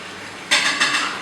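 Heavy pizza dough for a chicken pizza mixed in a bowl, a couple of close clattering knocks and scrapes of utensil against the bowl after a quiet moment, with no talk.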